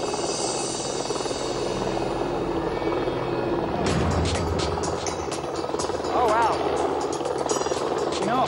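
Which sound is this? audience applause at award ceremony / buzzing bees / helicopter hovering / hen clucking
helicopter hovering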